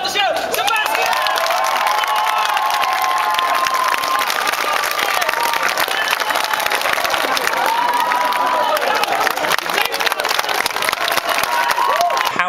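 A loud crowd cheers and claps nonstop, with whoops and excited shouting rising over dense applause throughout.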